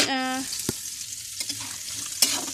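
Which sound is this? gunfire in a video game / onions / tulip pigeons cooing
onions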